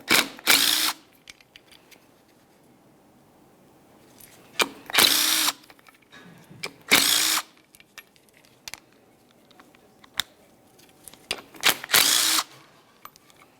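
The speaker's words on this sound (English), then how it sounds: "You can do that by removing your four 13mm headed mounting bolts." A power drill loosens the four 13mm mounting bolts that hold a radiator cooling fan blade to its fan clutch on a 1998-2002 Lincoln Navigator. It comes in several loud, short whirring bursts separated by quiet pauses and small metallic clinks.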